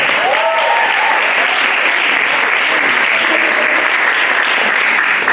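Applause from a lecture audience welcomes Tony Award winner Diane Paulus, a loud, steady wash of clapping that holds at full strength throughout, with a brief faint voice near the start.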